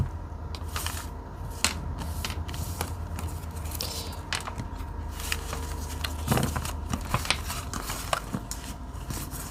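Small tarot cards are handled and shuffled close by, giving a run of crisp flicks, slides and soft snaps at an uneven rhythm, quiet and alone with no talking.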